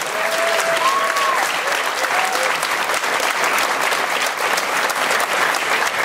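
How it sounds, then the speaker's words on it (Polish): A large festival gala audience gives loud, sustained applause, a dense steady clatter of many hands filling the hall from start to finish with a few faint voices underneath. "Teraz jeszcze ogromne brawa."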